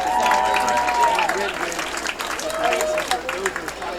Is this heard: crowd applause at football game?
yes